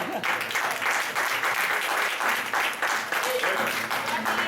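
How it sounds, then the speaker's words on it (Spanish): Audience at a golden wedding anniversary party breaks into sustained applause after a toast, steady dense clapping filling the room with a few scattered shouts of bravo. "Un aplauso."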